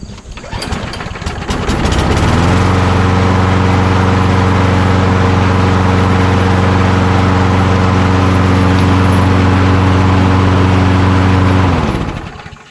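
A small gas push mower engine, recently repaired and primed a couple of times, catches and runs steadily at a loud, constant drone for about ten seconds before cutting off near the end.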